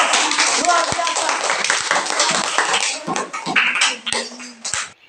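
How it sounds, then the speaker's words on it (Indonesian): Classroom applause rings out as a burst of many hands clapping together, dense and close, with a few voices mixed in before it tapers off near the end. "Ya boleh, silakan berikan aplaus."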